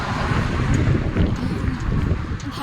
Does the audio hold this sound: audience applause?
no